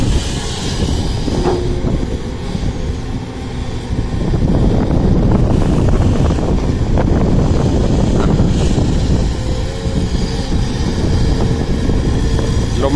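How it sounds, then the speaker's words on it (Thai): Strong outdoor wind buffets the microphone, producing a loud, continuous low rumbling roar that swells and eases in gusts over the whole stretch, with no talking. "ลมแรงครับวันนี้มีเสียงลมก็จะรำคาญหน่อยนึงนะครับ"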